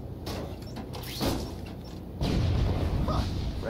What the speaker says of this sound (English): Friendly neighborhood fireworks.